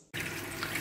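A school sink tap turns on abruptly for hand washing, and water then runs in a steady, full splashing stream with no voices.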